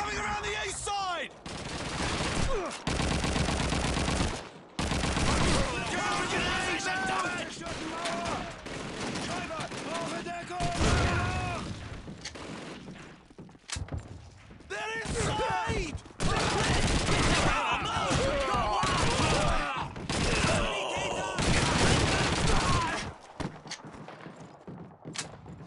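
Heavy sustained rifle and machine-gun fire from a World War II battle in Call of Duty rattles almost without pause, loud and close, while soldiers' voices shout orders over the chaotic shooting and explosions.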